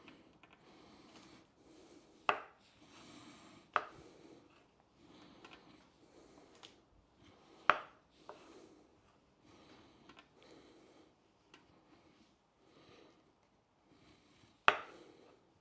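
Food being chopped with a knife on a board for a cod and lentils dish, faint scattered cutting taps with four louder sharp chops spaced several seconds apart in a quiet room.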